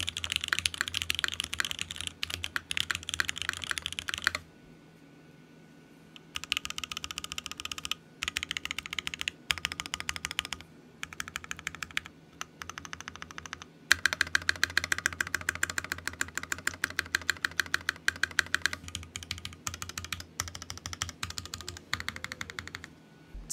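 Typing on an Aeroboard70 mechanical keyboard in plate-mount configuration: rapid clacky keystroke bursts, close and clear, with short pauses between runs and no talk.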